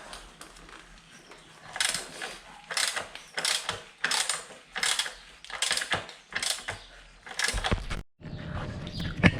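A hand ratchet loosening the rear axle on a 2009 Buell XB12S motorcycle, clicking in about nine separate pulls with short pauses between, close and fairly quiet, with no talk.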